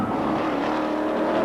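TVR Tuscan race car braking with its body slightly unsettled as it enters a chicane, its engine a loud, close, continuous roar throughout.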